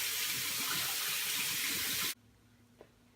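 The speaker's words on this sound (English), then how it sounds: "So first you want to turn on the water, and then you just want to give it a good soak in every single spot" Tap water running at full flow for washing vegetables, a loud, steady rushing stream that stops abruptly about two seconds in, leaving a quiet room with one small clunk and no speech.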